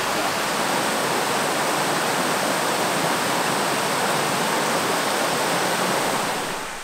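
Small waterfall pouring into a deep pool beside a sandy beach in a Sunshine Coast rainforest, a steady, loud broadband rush of falling water that holds constant throughout with no voices.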